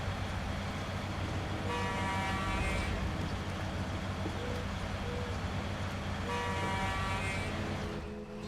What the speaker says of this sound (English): Love a good case of honk honk.